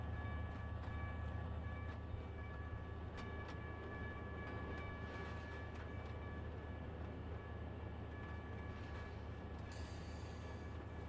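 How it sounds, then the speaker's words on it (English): Conrail locomotive from Trainz Simulator 3 running steadily, a continuous low engine drone with faint rolling rail noise throughout, alone with no talk. "this also marks the 2nd video here in Trainz where I'm driving a Conrail locomotive"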